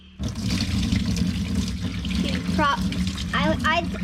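Tap water runs steadily into a sink while a small pet is rinsed, a close, continuous splashing stream with a person talking over it.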